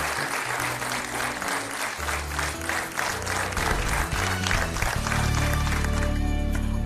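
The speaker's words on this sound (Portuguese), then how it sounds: "Um grande aplauso." Steady, full audience applause filling a Portuguese television studio after a successful petition, the clapping dense and continuous with some music-like tones underneath, holding strong to the end.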